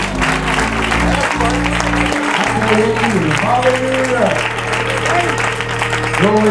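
Church congregation applauding at a Youth Sunday service, a steady wash of clapping running throughout with sustained organ or keyboard tones and some voices mixed in.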